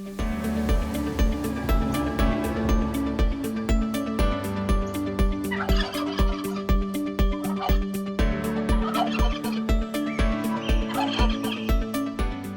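A flock of young turkeys in a closed barn gobbling and clucking at close range, with steady rhythmic thumping underneath and no voices.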